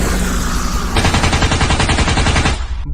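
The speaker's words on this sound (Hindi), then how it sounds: "बाबा तो गुल्ली बुल्ली और बाकी लोगों पर अंधाधुंध फायरिंग कर रहे हैं।" Rapid indiscriminate gunfire in a forest, a fast stuttering burst of loud shots running for about a second and a half before cutting off, with no talking.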